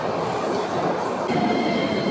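A Tokyo metro train arrives at a station, its steady loud rumble of wheels and carriages filling the platform, growing slightly louder toward the end with faint rail squeal and clatter.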